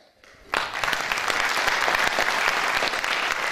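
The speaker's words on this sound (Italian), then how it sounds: "Questo è l'applauso a Francesca Scopelliti" Warm applause breaks out at an award ceremony after a brief hush: many hands start clapping together and then sustain a full, steady ovation of moderate loudness.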